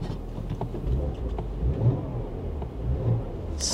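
Porsche Macan S engine idling with a steady low rumble, then rising in a few moderate revs, heard close and alone without talk.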